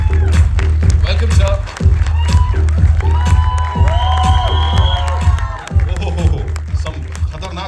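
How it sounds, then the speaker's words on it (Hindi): A loud crowd cheers and claps at a Bollywood film trailer launch event as a guest arrives, with a host speaking over the steady roar and music-like tones. "दिलीप ताहिल साहब के लिए जोरदार तालियां हो जाएं"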